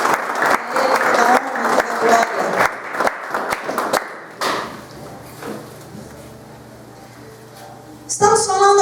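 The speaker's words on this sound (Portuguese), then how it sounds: "Você pode dar uma salva de palmas ao Senhor Jesus?" A church congregation claps and cheers for a few seconds, the applause loud and dense before cutting off into quieter room sound with a brief voice toward the end.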